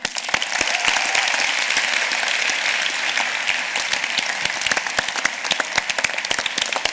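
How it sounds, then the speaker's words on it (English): Audience applause at a festival closing session, a steady, dense wash of clapping from a large crowd with crisp individual claps standing out throughout. "Get up and give yourself a big round of applause"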